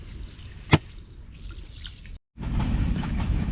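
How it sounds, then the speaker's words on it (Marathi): Water sloshing and trickling as rice is rinsed by hand in a pot outdoors, with a sharp splash near the start, a brief silent gap, then louder continuous swishing. "गुड्डीने घेतलेलं आहे पाणी आणि स्वच्छ धुवून घेणार आहे भात"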